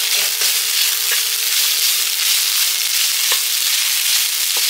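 Soaked flattened rice (aval) is tipped into a hot pan and stirred, a steady hiss of frying with occasional soft scraping clicks of the spoon.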